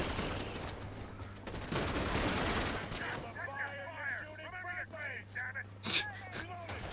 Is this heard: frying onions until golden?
no